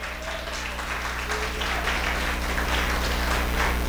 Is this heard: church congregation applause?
yes